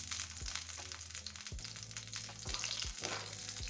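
Tempering for khaman dhokla sizzling in a pan, a soft continuous fry with a few light tapping or stirring knocks, fairly quiet and without talk.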